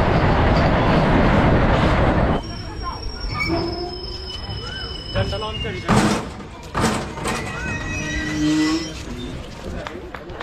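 A passenger train pulls into Dalkhola station with a loud rumble that drops away, followed by squealing wheels, clanks and station noise as people talk nearby.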